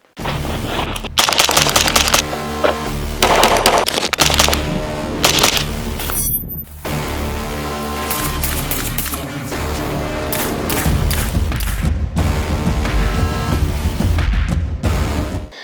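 Suppressed pistol shots ring out in bursts, sharp loud reports fired in quick strings with brief pauses between groups, close and punchy throughout.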